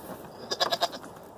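Goats at a rural property bleat in a quick burst of four or five short, nasal cries fairly close by, set against quiet outdoor background hum.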